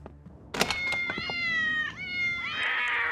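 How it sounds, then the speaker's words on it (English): Cartoon cats meow and caterwaul in a series of loud, drawn-out wavering yowls after a brief thump, the cries overlapping and rising near the end. "Getting rid of all them cats!"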